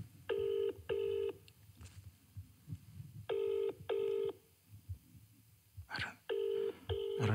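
Paired electronic beeps repeat in bursts, like a phone dialing and ringing, over faint background noise and a low rumble; no one speaks.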